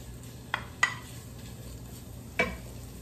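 Bacon cooking in a dry pan over medium heat, a soft, faint sizzle running underneath with a few sharp utensil clinks against the pan.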